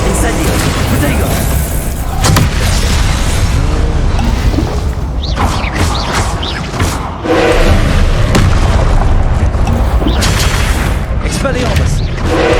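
Spell explosions from Confringo and Incendio casts in Hogwarts Legacy combat: loud booming blasts and crashes burst repeatedly through a dense, noisy fight with shouted spell names.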